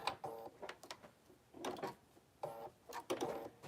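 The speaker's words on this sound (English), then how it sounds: "you're going to sew again on that line using the same smaller seam" A sewing machine stitches a quilt seam in two or three short bursts of rapid mechanical clatter separated by pauses, close and moderately loud, with no talking.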